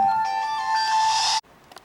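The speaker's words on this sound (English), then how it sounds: "There's the phone ringing again." A phone's electronic ring tone sounds loudly for over a second and then cuts off sharply, leaving near silence.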